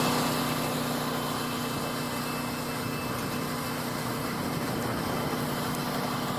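A sewer jetter's engine runs steadily throughout, a continuous close mechanical drone with a light, high-pitched whine and no breaks.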